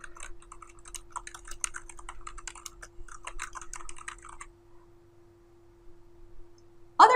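Quick, light clicking of a computer keyboard while entering text into an infographic, steady close-up typing over a faint electrical hum, then quiet and a final click.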